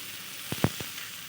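Fried potatoes go into a spiced drumstick curry, bringing a quiet, steady sizzle broken by a few soft clinks and thuds as they land in the pan.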